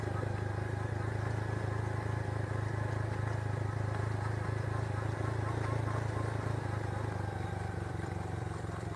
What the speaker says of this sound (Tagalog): Tunog lang ng tambutso yan.